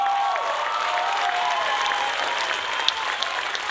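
A large audience at the Wave Awards 2015 Stairway to Stardom music show breaks into sustained, dense applause that holds evenly throughout, with faint tonal sounds drifting above it.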